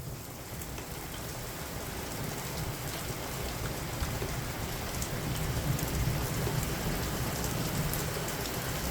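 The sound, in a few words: thunderstorm with heavy rain and thunder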